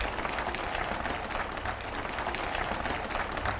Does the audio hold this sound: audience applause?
yes